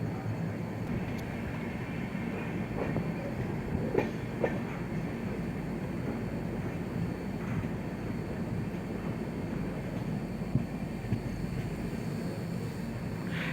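Lucknow Chhapra Express pulling out of Birapatti station, a steady broadband rumble of rolling wagons with faint clicks from the rails, continuous and fairly close, no speech.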